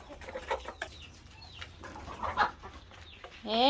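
Chicks and hens in a henhouse, soft scattered clucks and peeps close by with low rustling, ending in a louder, higher call.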